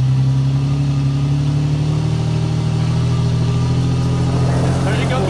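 A Toyota FJ Cruiser engine rumbles steadily at low revs while the 4x4 creeps forward over a rocky hill trail, a loud continuous drone close by.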